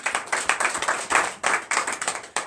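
A church congregation at a morning prayer service in Benin claps in a fast, steady rhythm, loud and close, with a few voices mixed faintly under the hands.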